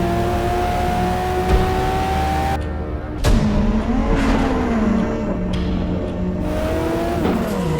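A Nissan R33 GTR LM race car revs hard in sharp bursts, rising and falling loudly with abrupt cut-offs between surges, close and unaccompanied by talk.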